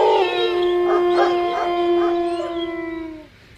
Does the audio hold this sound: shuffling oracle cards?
no